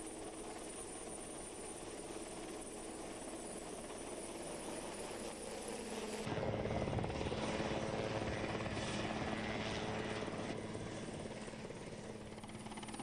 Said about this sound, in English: Be vigilant as the helicopter approaches.